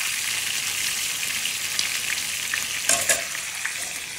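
Fish fries in a home kitchen pan (kawali) with a steady, dense sizzle throughout, joined by a few sharper crackles and pops near the end; no one speaks.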